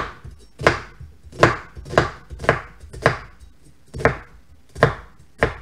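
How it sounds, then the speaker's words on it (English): Knife dicing an onion thinly on a cutting board, nine crisp, evenly spaced chops at a steady rhythm, close and clear with no talking. "same with the onion, and I dice it pretty thin"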